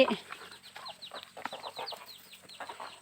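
A mixed flock of geese, ducks and chickens being fed makes soft, scattered clucks and short chirping calls at a moderate distance, with light rustling between them.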